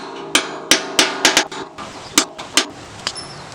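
Hand tools strike hard material outdoors while a hole is opened up to start a saw during manual driveway culvert installation, giving a series of sharp, close metallic knocks at an irregular pace with short gaps between blows.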